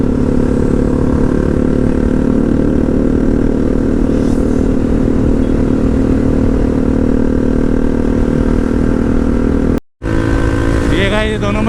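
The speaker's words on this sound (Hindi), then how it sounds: "ये दोनों में ड्रैग रेस चल रहा है, देख लो।" Two Yamaha R15 motorcycles, a V4 and a V3, drag race on a highway, their engines droning loud and steady close by under continuous wind rush, with a brief dropout near the end.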